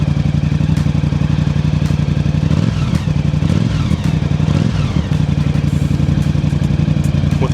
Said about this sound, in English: when you rev this thing up, the whole bike shakes